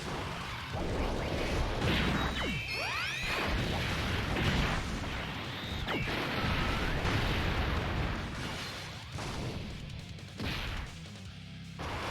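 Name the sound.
Bardock attack effects in Dokkan Battle video game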